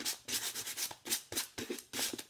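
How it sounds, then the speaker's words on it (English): Sandpaper rubs by hand along the edges of a wooden sign in quick, close strokes of about ten passes, each a soft rasping sweep with short gaps between. "you're just going to start sanding"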